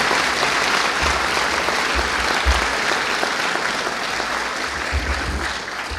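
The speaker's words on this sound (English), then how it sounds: "we can give them a round of applause" A school Veterans Day assembly crowd claps in steady, full applause that runs loud throughout, many hands blending into a thick wash with no voices standing out.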